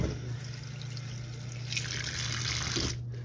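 Tap water runs steadily into a sink as sweet potato tops and moringa leaves are rinsed, a close, continuous splashing stream with a brief rustle near the end.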